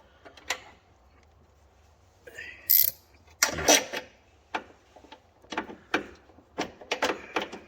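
Ratchet clicks and metallic mechanism sounds while a securing nut is wound down on a strut brace bolt on a Toyota GT86, intermittent bursts of short clicks with brief pauses between them, close up.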